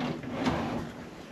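A drawer in a hotel room slides open or shut, giving one brief soft rumbling scrape against steady room noise.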